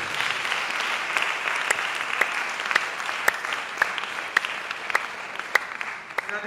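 Applause from a talk audience, broad and moderately loud, with a few sharper individual claps popping out at a regular pace above the steady clapping crowd.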